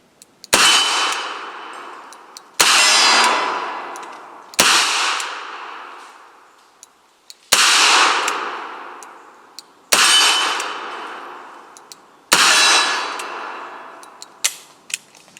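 Six loud, sharp shots from a .45 revolver fired in double action, evenly spaced about two seconds apart, each with a ringing decay outdoors, no talking.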